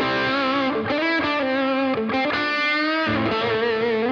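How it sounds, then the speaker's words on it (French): An electric guitar plays sustained, heavily distorted notes and chords through delay and reverb, ringing loudly and continuously with smeared, echoing tails between changes. "on peut aussi chaîner différemment le delay et la reverb"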